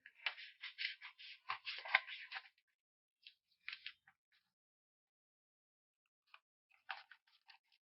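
Scissors snipping through corset fabric up close, a quick run of crisp cuts followed by a few short isolated snips after a pause, faint and with no talking.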